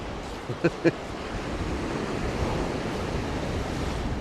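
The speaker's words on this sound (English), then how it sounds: "You can see the waves are just crashing around." Ocean waves crash and churn along the shore in a continuous roaring wash, mixed with wind buffeting the microphone and a couple of brief knocks near the start.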